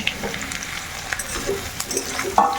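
Spicy okra fries in a pan with a constant close sizzle, broken by light clicks and scrapes of stirring and a sharper clatter near the end, with no one talking.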